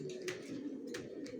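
Pigeons coo softly in an indoor breeding loft, a low continuous murmuring call with a few brief higher rustles or chirps, heard close and alone.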